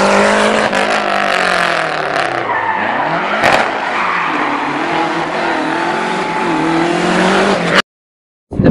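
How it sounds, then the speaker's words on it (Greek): Historic rally cars race through the Agios Nikolaos special stage of the Acropolis Rally in Greece, engines roaring loud and close with a sweeping pass, rising and falling revs and tire squeal, ending in a brief cut to silence. "βλέπουμε παλιά ιστορικά αυτοκίνητα που έχουν γράψει ιστορία στους ελληνικούς αγώνες"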